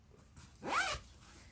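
A single quick zip on a Vera Bradley Triple Zip Hipster bag, one short rising pull under a second long, close and clear in a quiet room.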